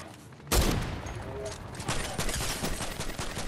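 Rapid gunfire from a weak gun in the Fortnite video game, a loud burst of shots starting abruptly and continuing as a dense crackling volley for several seconds.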